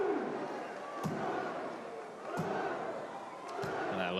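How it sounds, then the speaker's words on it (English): A French crowd at a STIHL Timbersports team world championship roars in a steady, moderately distant wash of noise, with sharp thuds punctuating it every second or so. "You hear this French crowd getting into it"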